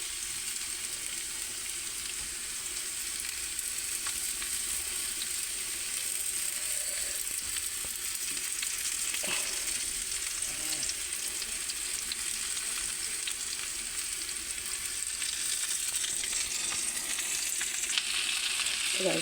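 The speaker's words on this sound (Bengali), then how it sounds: "আমি আলুর সাথে একবারে আদা দিয়ে ভালো করে কষে নিচ্ছি" Potatoes with ginger sizzle steadily in a pan while being stirred, a continuous broadband frying hiss with occasional scraping stirs, fairly close and even throughout, no talking.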